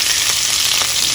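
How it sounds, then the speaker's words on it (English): Mutton pieces fry over a high flame, giving a loud, continuous, close sizzle with faint stirring touches. "Over the high flame, cook for at least 3-4 minutes so that the pieces turn into"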